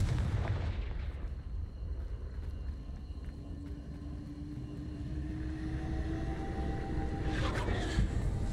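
A Confringo fire spell goes off in the Hogwarts Legacy game with a heavy, booming blast. A deep rumbling roar follows and fades out, ending with a sharper burst near the close.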